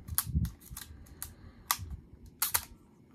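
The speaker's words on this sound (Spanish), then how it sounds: "ya vemos que el obturador es muy suave" Sharp mechanical clicks from an Asahi Pentax Auto 110 camera as its shutter fires and the double-stroke film advance is worked, several separate close ticks spread irregularly across a quiet room.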